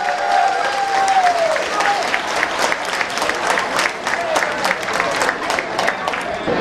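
A Vietnamese community evening show in Southern California, where the audience gives warm, sustained applause to the organizing committee: loud, dense clapping throughout, with a short voice at the beginning.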